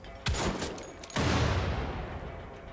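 Enemy gunfire in the video game Wolfenstein: The Old Blood comes as two loud bursts of shots about a second apart, each trailing off into a rumbling echo.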